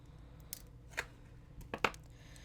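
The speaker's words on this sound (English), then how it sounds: "That's it, and snip it off." Scissors snipping beading wire on a pearl bracelet, two or three short, crisp cuts spaced apart against a quiet background.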